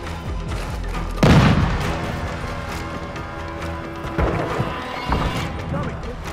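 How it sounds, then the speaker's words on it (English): A grenade blast in Call of Duty Modern Warfare 2 lands as one loud, deep boom, followed by scattered gunfire and smaller impacts within a noisy multiplayer firefight. "Throwing grenade!"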